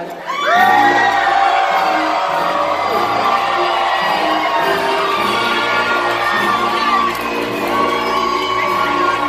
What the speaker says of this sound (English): Hear your people cheer.